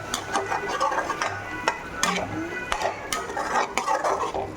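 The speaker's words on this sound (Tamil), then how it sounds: "நல்லா அந்த பன்னீர்லாம் அந்த மசாலா நல்லா கோட்டா வர மாதிரி நல்லா அது கிளறி விட்டுருங்க" A spoon stirs paneer through onion masala gravy in a pan, giving repeated close clinks and scrapes against the metal over a soft simmering sizzle, with no talking.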